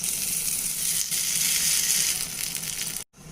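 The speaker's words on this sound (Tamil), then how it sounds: "எண்ணெய் நல்லா காஞ்சிருச்சுன்னா நம்ம அந்த சூட்லேயே கடுகு உளுந்து பருப்பெல்லாம் பொறுத்துருங்க" Mustard seeds and urad dal crackle and sizzle in hot oil, tempering for coconut chutney. Dense, steady close-up popping runs for about three seconds, then cuts off abruptly and resumes more quietly.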